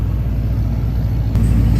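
Supercar idling at a race track, a loud, close, steady low engine rumble with a faint high whine running through it and a small shift near the end.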